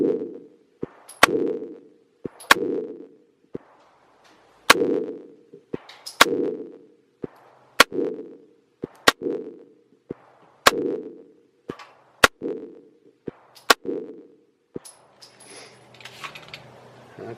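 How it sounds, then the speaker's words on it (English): Target practice with an M&P 9L 9mm pistol emptying a 10-round magazine: about ten sharp, evenly paced cracks, each followed by a short echoing decay, with faint handling noise at the end. "That was a 10-round mag."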